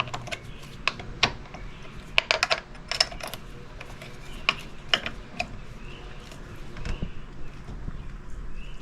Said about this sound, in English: Next, I can take my 6mm, tighten those two bolts underneath.